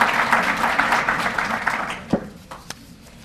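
Audience applause at a firm's anniversary ceremony, a dense burst of clapping from many hands that thins out after two seconds into a few scattered claps.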